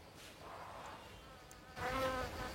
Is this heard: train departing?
no